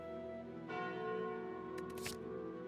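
Bell relic chime from the Slay the Spire video game, a clear ringing tone with sustained harmonics that swells near the start and rings on, joined by brief bright shimmer toward the end, over steady game music with no talking.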